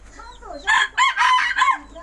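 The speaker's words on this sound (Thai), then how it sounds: "มาดูลูกไก่ครับผม" Chicks and native Thai bantam chickens cluck and call in a few quick bursts close by, with a rooster-like crowing quality, over a faint low background hum.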